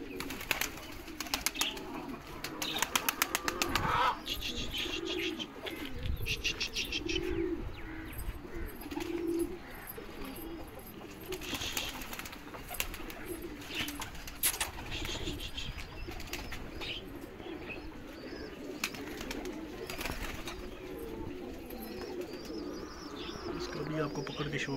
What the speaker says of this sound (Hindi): कबूतर छत पे आके उतर गए जी।